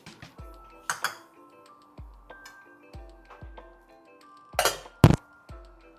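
Vegetables such as long beans, okra and eggplant being dropped into a metal pot of sinigang: a series of separate clinks and thuds, with a couple of louder scraping, rattling clatters, close and without talk.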